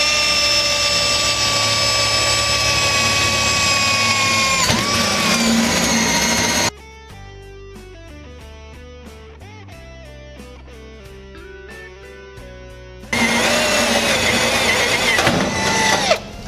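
A big rotary hammer bores a second hole in metal, a loud sustained whine and grinding roar that breaks for several seconds into a quieter tonal, stuttering stretch before the full drilling noise returns.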